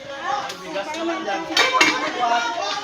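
A cooking pot being carried at a crowded eating rush, clanking with metallic dish-and-cutlery clinks amid busy chatter and voices, a couple of louder clatters near the middle.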